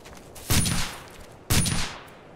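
Two loud gunshot bursts from the Operation Flashpoint Dragon Rising war game crack out about a second apart, each with a sharp attack and a rolling tail, with no talk.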